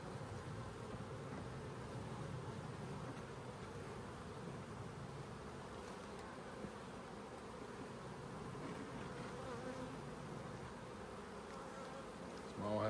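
Honey bees buzz steadily in a dense, continuous drone during a hive inspection of honey supers and brood chambers, the swarm hum close and unbroken throughout.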